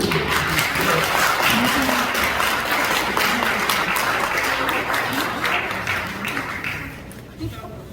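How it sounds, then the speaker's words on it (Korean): Applause from a church audience at a Korean Christian association's inauguration thanksgiving service in a buffet hall, steady dense clapping with voices mixed in, fading slightly toward the end. "박수!"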